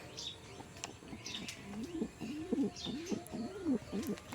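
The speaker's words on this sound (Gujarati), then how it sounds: "અહીંયા છે મારા કબૂતર" Domestic pigeons, some of them crested, sit together in a loft and coo in a steady run of soft, throaty, rolling calls, with a few faint chirps above them and no talking.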